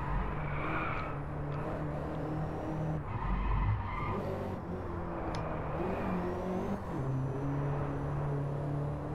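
VW Beetle GSR racing in Driveclub, engine droning steadily with a brief tire skid as the car brakes, continuous game car noise throughout.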